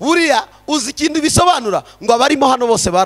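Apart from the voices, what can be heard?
No everyday noise stands out behind the speech.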